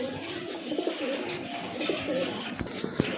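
A male pigeon coos softly among other birds in a pigeon sale setting, low murmuring coos over a busy background hum.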